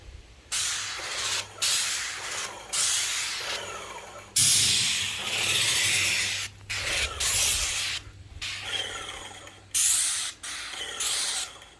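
An airless sprayer applying stain to a deck, giving loud bursts of hissing spray that start and stop in repeated passes of a few seconds each, with short pauses between, close by and with no talking.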